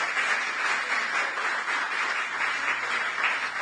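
A church congregation applauding during a service, a close, continuous roar of many hands clapping at a steady, full level from start to finish.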